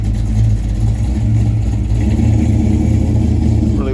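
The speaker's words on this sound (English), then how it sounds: "Car show without a nice sounding" A Ford XW Falcon engine revs and rumbles steadily up close at a car show, a deep continuous growl with slight swells in throttle, no voices.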